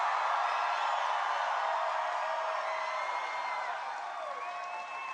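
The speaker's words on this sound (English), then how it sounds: "Boy, what a crowd." Large crowd cheering and whooping at a Donald Trump campaign rally in Geneva, Ohio, a dense steady roar of voices and shouts holding loud throughout, easing only slightly near the end.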